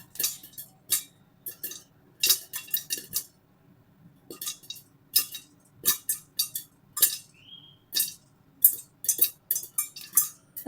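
Sorghum (jowar) grains pop inside a covered pan, a loud, irregular run of sharp snapping bursts that come in clusters with brief gaps between them.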